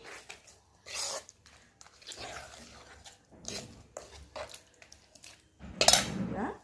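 Utensils clink and scrape in a pot as boiled tamarind pulp is mixed into a tempering for tamarind pulihora, heard as separate bursts of metallic clatter and stirring, close by, with quiet gaps between.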